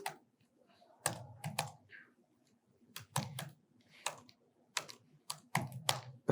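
Someone types a prompt on a computer keyboard in short bursts of crisp, close key clicks, with quiet pauses between the flurries and no speech.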